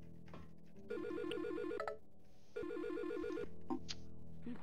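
Warbling electronic phone ringtone signalling a voicemail in the video game Silent Hill: Shattered Memories, two trilling bursts of alternating tones over a low game hum.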